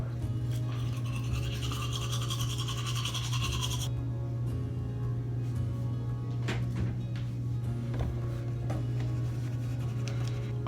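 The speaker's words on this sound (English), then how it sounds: "So I'm gonna start brushing my teeth." Someone brushes their teeth with a toothbrush, and quick scratchy scrubbing strokes sound close by over a steady low electrical hum, with no talking.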